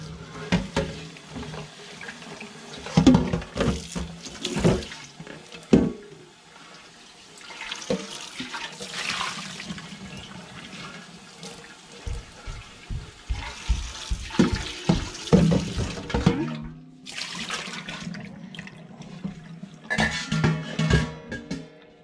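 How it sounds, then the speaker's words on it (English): Running tap water rinsing out a Surge bucket milker, close splashing and sloshing in uneven bursts as the bucket is swirled and tipped, alone without talk. "And then I just rinse this really good."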